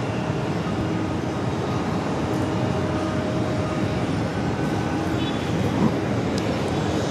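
A Delta airliner at JFK airport makes a steady, loud broadband jet roar that holds evenly through the whole stretch with no talk over it.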